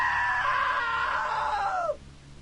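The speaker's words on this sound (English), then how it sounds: "Now that was a great scream." A long, high, loud scream holds steady before sliding down in pitch and cutting off after about two seconds, leaving a low background rumble.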